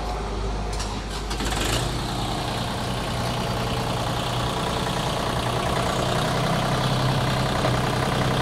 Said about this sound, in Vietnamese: Máy nổ rất yên rồi bà con.